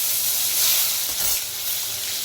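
Chopped tomato hits a hot pan and sizzles loudly, a dense steady hiss with a brief stir or clatter near the middle, no talking.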